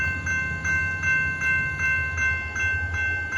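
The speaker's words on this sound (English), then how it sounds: "This is very rare to have two trains meeting at the exact same time" Trains of the Kiamichi and Valliant railroad meet at night, heard as a faint, steady rumble with a sustained whistle-like tone and an even, repeating clickety pulse of cars rolling past.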